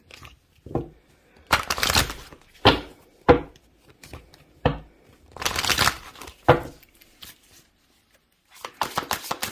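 Oracle cards being shuffled during a career and money reading, giving a string of brisk riffling bursts and soft card slaps, close and fairly loud, with pauses between and no talking.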